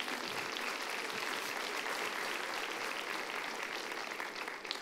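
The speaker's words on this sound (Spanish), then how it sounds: "Le pido un aplauso para mis papás." A church congregation applauds the pastor's parents, broad even clapping sustained throughout, somewhat distant and filling the room.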